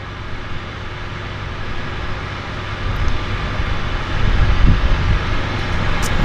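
An aircraft at Vancouver Harbour airport, a steady low engine roar that grows louder toward the end as it powers up for takeoff.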